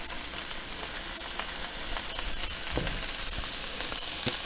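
Venison steaks searing in a hot pan for a stroganoff, giving a steady, close sizzle and spatter throughout with a few sharper pops, no talking.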